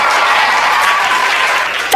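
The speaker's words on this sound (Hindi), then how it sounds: "तालियां कमजोर हो गई।" An audience claps steadily at a Hindi kavi sammelan poetry recital, a dense, even wash of applause that thins slightly near the end before cutting off.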